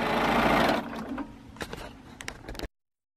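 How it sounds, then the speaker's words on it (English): A sewing machine stitches quilt triangle pieces in a fast whirring burst that stops abruptly, followed by quieter clicks and handling of fabric close by. "I'm now going to sew with my kaleidoscope piece on top."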